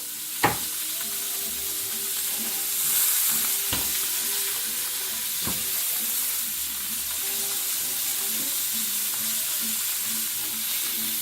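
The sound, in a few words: steak searing in a pan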